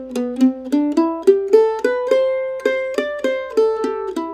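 A mandolin plays a phrase of the fiddle tune Billy in the Lowground at an intermediate level, with a steady run of clearly picked single notes, close and alone.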